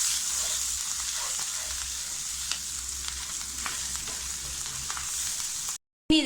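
Ginger-garlic paste and spices fry in a pan for a soya chunks masala curry, a steady sizzle marked by scattered scraping stirs, then an abrupt cutoff at the very end, no talking.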